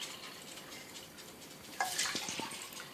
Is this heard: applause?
no